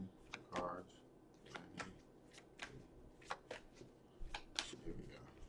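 Tarot cards riffled and shuffled in a series of quick papery bursts close to the microphone, with a voice speaking over the shuffling.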